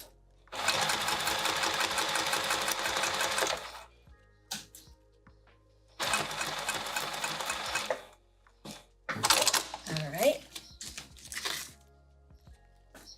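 Sewing machine stitching down a zipper on a small key chain pouch: two rapid, steady bursts of needle chatter a few seconds each, separated by quiet handling and fabric rustles, close and clear.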